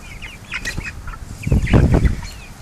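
Backyard chickens, including young birds hatched at home, cluck and squawk at close range in short, scratchy bursts that grow louder and busier toward the end.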